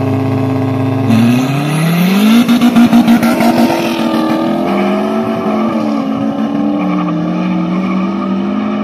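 A drag racing car launches and accelerates hard on a test run in the 9-second category, the engine note climbing loudly through gear changes, near and alone with no talking.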